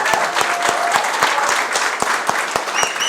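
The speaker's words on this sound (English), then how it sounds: "So one more big round of applause for him" Audience applause at a film screening: a steady wash of many hands clapping, fairly loud and continuous for three seconds, with a few sharper individual claps standing out near the listener.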